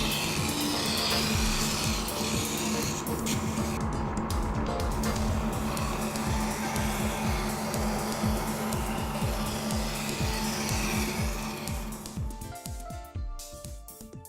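A SCANGRIND wet stone grinder's stone turns steadily toward the operator while a knife in a holder and guide is sharpened on it, giving a continuous close motor hum with a fast rhythmic grinding rasp, winding down near the end.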